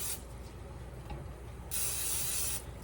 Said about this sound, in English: I just spray these buns like this.